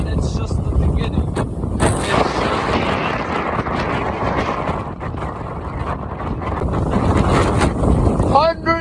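Storm Eunice winds at Egmond aan Zee on the Dutch coast, gusts reaching 177 km/h, roar as a continuous heavy buffeting rumble across the microphone, loud and close with surging peaks.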